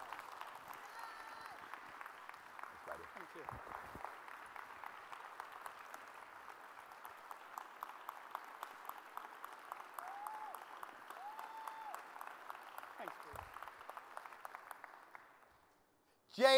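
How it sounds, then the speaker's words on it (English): Sustained audience applause at a national conference plenary fills the hall, steady and dense for about fifteen seconds before fading out. "let's give Ken a big round of applause and give him the recognition he deserves"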